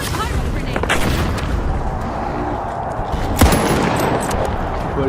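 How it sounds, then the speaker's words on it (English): A pyro grenade going off in the video game The Finals: dense, continuous booms and gunfire-like crackling fill the whole stretch, with one sharper blast near the middle and voices faintly underneath. "Throw a pyro grenade."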